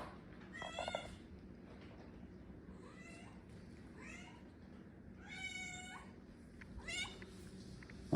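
A wet cat that has been out playing in a rainstorm meows repeatedly indoors, about five drawn-out, close cries spread over several seconds with quiet gaps between them and no talking.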